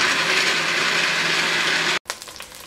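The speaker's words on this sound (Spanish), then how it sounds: "voy a licuar en velocidad baja para empezar" Blender running at low speed on chicken broth and cooked chicken for a stew, a steady broadband whir that holds evenly for about two seconds, then cuts off abruptly and leaves faint clatter.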